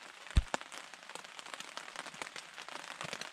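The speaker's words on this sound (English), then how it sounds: "Still raining out." Heavy rain patters on a camping tent and rain fly during a thunderstorm, a close, dense scatter of irregular drops and taps with one sharper thump near the start, no voices.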